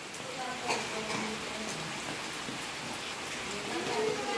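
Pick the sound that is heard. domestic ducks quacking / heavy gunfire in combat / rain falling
rain falling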